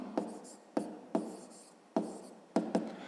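Pen or pencil scratching out numbers by hand for a fifth-grade math exercise, in several short bursts with brief pauses between strokes, close and fairly clear with no talking.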